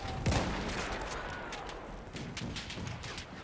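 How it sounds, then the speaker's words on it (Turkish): Rapid gunfire and explosions from a Battlefield 1 battle, Fao Fortress Operations map, with machine gun bursts under dense, continuous combat noise; a brief voice sounds early on. "Orada bir makinalı tüfek var."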